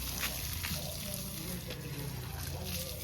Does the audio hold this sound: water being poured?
yes